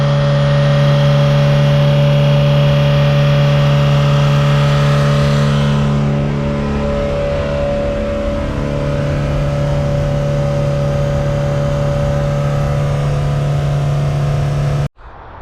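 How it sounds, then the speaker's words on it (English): A Toyota MR2 SW20 engine holds a steady, elevated high idle with strong constant harmonic tones, loud and close for about fourteen seconds, with a slight dip in pitch midway before cutting off abruptly. "We thought the car was high idling due to a fact of air bubbles in the coolant"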